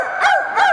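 A person imitates a rooster crow with two loud, close, strained vocal calls in quick succession, each rising and falling in pitch.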